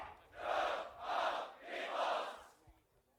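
A crowd at a beatbox battle chants a beatbox sound in unison, three rhythmic swelling vocal bursts that are faint and distant before trailing off.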